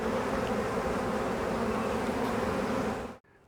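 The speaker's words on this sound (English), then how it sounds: "look at all these bees flying" Honey bees flying around a hive during a spring inspection make a dense, continuous buzzing drone, close and steady, which cuts off abruptly near the end.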